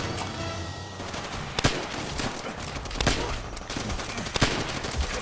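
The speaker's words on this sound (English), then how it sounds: "Whoever's shooting at me, stop it." Gunfire in the World War II shooter Call of Duty: World at War, a few sharp scattered shots cutting through a busy, noisy battle backdrop with no speech.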